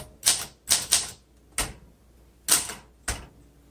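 Sharp mechanical key strikes from a 1961 Olympia SM7 manual typewriter, five distinct clacks in an uneven rhythm, close and crisp with quiet gaps between, no talking.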